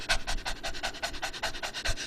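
A person imitates a dog's rapid panting, about a dozen quick, evenly spaced breathy huffs, close and fairly quiet.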